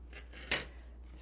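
Scissors snip through paper in a single short, crisp cut with softer rustling around it, faint and close in a quiet room.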